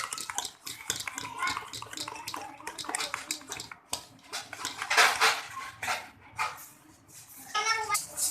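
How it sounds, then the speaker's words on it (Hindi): Gram flour batter being beaten vigorously in a bowl, a busy, continuous clatter and slosh of the whisk against the sides, loud and close with brief pauses between bursts. "6 से 5 मिनट तक इसको फेंटते रहें।"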